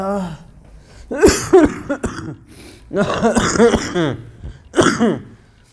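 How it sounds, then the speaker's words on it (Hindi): Several rough, harsh coughs in bursts, mixed with throat clearing, close and fairly loud. "सर्दी खांसी से परेशान लगेगा"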